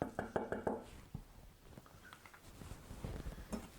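Seeds being knocked out of a cored bell pepper onto a kitchen surface during small-dice prep, heard as a short run of close, sharp knocks followed by lighter scattered taps and handling noise.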